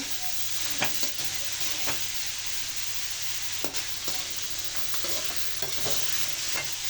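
Bitter gourd (ampalaya) stir-fried in a pan gives a continuous close sizzle, broken by repeated scraping strokes of a spatula at an uneven rhythm.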